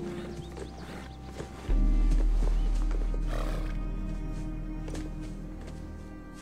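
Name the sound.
horse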